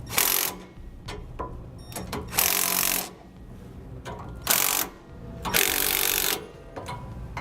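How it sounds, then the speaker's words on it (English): Bolts being tightened with a 9/16-inch socket and ratchet while mounting a Roadmaster Reflex RV steering stabilizer bracket, giving several bursts of rapid ratchet clicking separated by short pauses, close and moderately loud, with no talking. "now we'll tighten down our bolts using a 9/16" socket"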